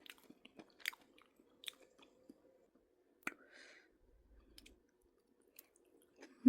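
Someone crunches through a spicy Chinese mala salad with bamboo shoots, squid and garlic flowers, giving scattered close, quiet bites and clicks in short irregular bursts against near silence.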